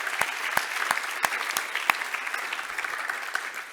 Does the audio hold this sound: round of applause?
yes